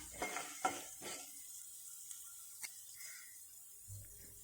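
Lentils frying on a low flame for turkey berry chutney, a faint soft sizzle with a few quick scraping stirs at the start, then scattered light clinks of a spoon against the pan.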